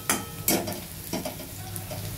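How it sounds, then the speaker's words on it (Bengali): Paneer korma with chilli and ginger paste is stirred in a hot pan, a few scraping strokes over a steady sizzle of frying, close and alone. "আমি নাড়ব।"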